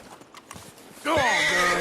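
A horse in Red Dead Redemption 2 gives a loud, close whinny after a few soft hoof clops and shuffles, the neigh rising sharply and holding to the end.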